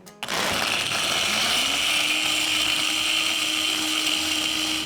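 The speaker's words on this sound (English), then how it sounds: "this blender is a bad boy" A blender starts abruptly and runs loud and steady, its motor whine rising slightly in pitch then holding constant.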